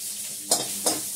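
Ginger paste frying over a lowered gas flame for tomato chutney gives a steady close sizzle, broken by two quick scraping stirs of the spoon in the pan.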